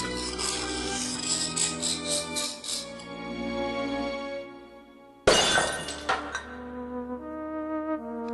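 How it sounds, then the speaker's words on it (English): A tall urn smashes into pieces in the Discworld Noir video game, a sudden loud ceramic crash with scattering shards that rings out and fades, set against sustained atmospheric game music that carries on before and after. "I smashed the tall urn into tiny pieces"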